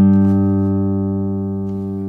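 A single plucked ukulele note from a custom Pegasus Guitar instrument rings on and on, steady and rich in overtones, slowly fading with no talking over it.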